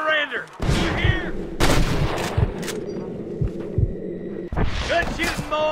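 Gunfire at snipers in a Red Dead Redemption shootout: several sharp gunshots spaced irregularly over a low rumbling hum, loud and near, with voices speaking at the start and end.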